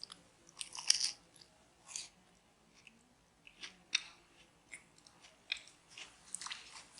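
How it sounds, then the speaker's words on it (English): A crunchy grilled cheese sandwich is bitten and chewed close up, producing repeated crisp crunches at irregular intervals, some sharp and distinct, others softer, with no talking. "It's a good crunch."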